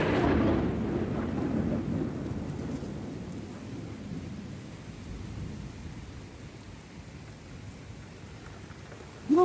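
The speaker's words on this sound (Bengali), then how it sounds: "গুরুম গুরুম শব্দ দিয়ে আমি ব্লগটা শেষ করে দিলাম।" Thunder rolls low and long through a Kalbaisakhi storm, with steady rain hissing beneath it, the rumble fading slowly over several seconds.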